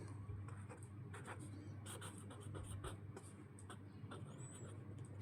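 A pen writes out a math solution on paper, steady scratching strokes with short pauses, quiet and close, with a low background hum.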